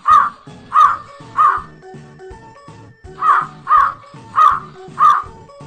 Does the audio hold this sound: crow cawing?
yes